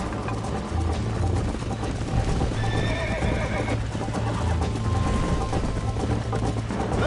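A horse in the Red Dead Redemption video game neighs and whinnies while galloping hooves beat steadily throughout, loud and close over a constant low rumble.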